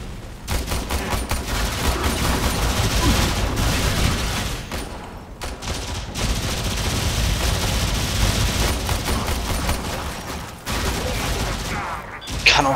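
Sustained rapid gunfire in the video game Warframe, loud and dense, running almost continuously with brief gaps and a few short pauses, with no talk over it.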